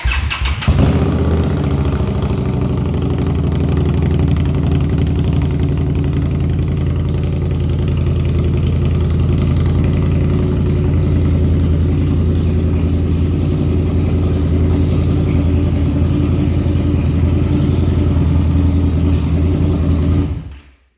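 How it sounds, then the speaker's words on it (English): An Indian Scout Sixty motorcycle with aftermarket shorty exhausts runs loud and close, a deep, throaty idle with a steady rapid pulse that holds for about twenty seconds before cutting off. "So let's crank her up, and you'll get to see."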